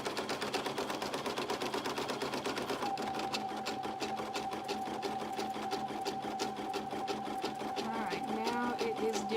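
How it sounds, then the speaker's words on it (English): A single-needle sewing machine stitches appliqué on a burp cloth at a slow pace, its rapid, steady stitching clatter running close and continuous throughout while a voice talks softly in places. "It does sound like it's going slow."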